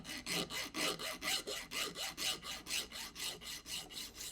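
A file is stroked back and forth across the rough edge of a Norton motorcycle primary case, giving about fourteen even rasping strokes in a steady rhythm, close and alone with no speech.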